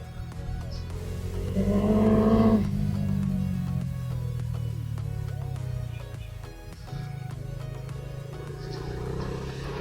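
A Dominar motorcycle threads through evening city traffic. Its engine drones steadily and swells into a louder rev early on, then settles back to a constant hum among surrounding road noise.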